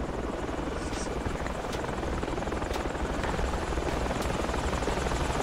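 Steady heavy rotor thrum of helicopters circling overhead in a combat video game, constant and loud across the whole stretch with a few faint clicks on top.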